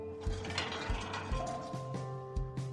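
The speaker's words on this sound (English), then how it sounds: "This is the sound of something opening" Lock mechanism clicking open after a key is inserted in the video game Draw a Stickman: Friend's Journey, a series of mechanical ratcheting clunks and gear clinks over a steady low game hum.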